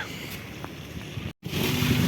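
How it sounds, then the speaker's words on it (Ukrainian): Steady wind rumbling against a microphone at an outdoor car market in windy, rainy weather, a low gusty roar with a brief dropout before it returns slightly louder. "я не люблю знімати таку погоду, дощ, вітер."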